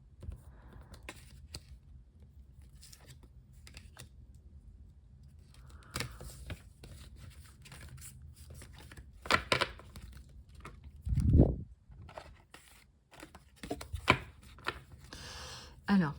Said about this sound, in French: je vais enlever certaines cartes que j'ai mélangées